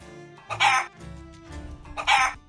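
A chicken character in the Feather Family game calls twice, two short harsh clucking bursts about a second and a half apart, close and fairly loud, with no talking over them.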